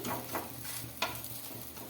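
Aloo paratha made with wheat flour sizzles softly in oil on a pan, with faint frying crackle and a couple of brief utensil taps, no voices.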